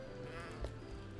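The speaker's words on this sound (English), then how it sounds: "This sounds like a freaking goat." A goat-like monster in Starbound bleats, a faint, wavering cry at low volume over a quiet game background.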